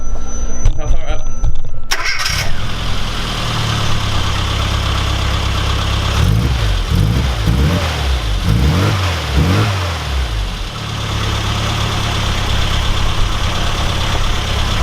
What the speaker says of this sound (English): So if we start it up and give it a quick rev